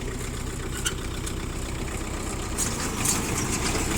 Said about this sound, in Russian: То есть подборщик у нас заработал.